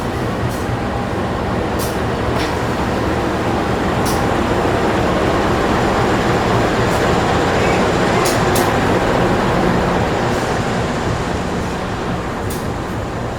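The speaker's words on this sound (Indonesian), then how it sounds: "Dari arah utara masuk lokomotif Seruntulan guys" A CC206 diesel locomotive rolls into a station in Indonesia, a loud continuous low rumble and engine drone filling the scene, with sharp metallic clicks and clanks from the wheels and rails recurring throughout.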